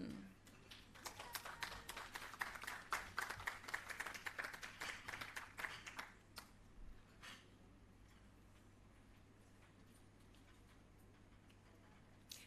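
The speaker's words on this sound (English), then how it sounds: "A round of applause, ladies and gentlemen." Applause from the audience at a restorative justice facilitator graduation ceremony: a burst of clapping that rises for several seconds, then thins to a few scattered claps over a faint steady hum.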